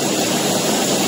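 Helicopter overhead during a chase of a man riding a moving train, a loud, steady rotor and engine roar filling the whole moment with no talking.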